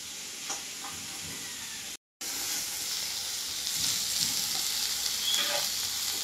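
A pan sizzles as ingredients are lightly fried for a prawn malai curry: a quiet, continuous frying hiss with small crackles throughout, broken only by a brief dropout near the two-second mark.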